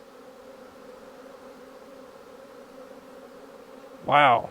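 Honey bees buzzing around a swarm, a steady droning hum throughout, fairly faint, ending with a brief loud voiced exclamation close by.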